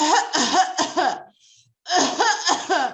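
Several harsh, rhythmic coughs repeat in quick bursts, close and loud, pausing briefly before another run of coughing.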